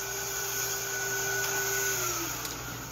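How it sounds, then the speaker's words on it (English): A vacuum cleaner cleans the magnetic roller of a Sharp MX-6240/MX-7040 copier's developer unit, giving a steady, loud, unbroken whirring drone with no voices. "cleaning with the vacuum cleaner."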